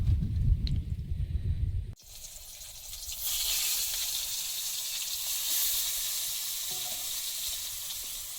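Hot oil sizzles loudly in a wok as pointed gourd goes in to fry, a sudden burst after a few seconds of low background noise, then a steady broadband crackle that carries on to the end.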